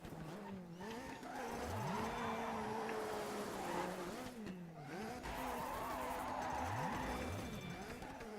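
Race car in the Dirt 3 video game spinning a donut, with a continuous engine drone rising and falling in pitch and tyre skidding throughout, loud and steady with brief dips.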